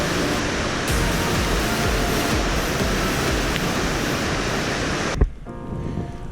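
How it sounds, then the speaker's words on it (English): Ice-choked river in deep winter snow, with massive chunks of ice carried along, gives a steady, broad rushing wash close by that cuts off abruptly near the end into quieter background. "there's massive chunks of ice going down this river"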